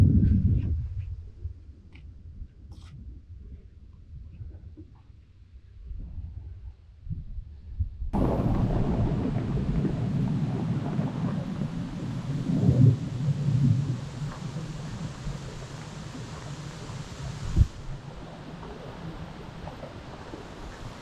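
A thunderstorm outdoors at a carp-fishing competition by the water: a low rumble of thunder, then heavy rain sets in as a steady loud hiss, with further rolling thunder and a sharp crack near the end.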